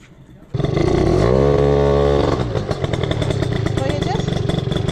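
A scooter engine starts abruptly and revs loudly, rising to a sustained high pitch before dropping back to a rough, steady running note, close by.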